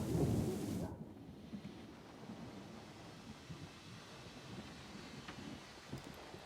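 A thunderstorm in the video game Syberia: The World Before, opening with a heavy rolling thunder crack that fades into a steady rumble of rain and wind, no talking.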